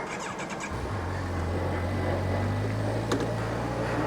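A Kawasaki Versys 1000 SE motorcycle idles briefly, then pulls away with a steady low engine drone that holds close and loud, with a short click partway through and no talk.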